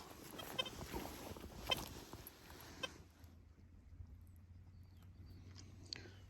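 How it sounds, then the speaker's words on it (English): Sheep bleating out in a farm field, a few distant calls over wind-blown outdoor noise in the first half, then quieter ambience with faint bleats near the end. "the sheep are in this field now"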